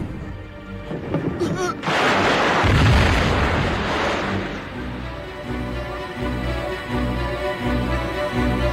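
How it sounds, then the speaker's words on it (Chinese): A booming explosion effect in a kung fu film fight scene, a heavy low burst that swells and rumbles for several seconds before settling into an ongoing mix of dramatic sound and background score. "爆炸了！"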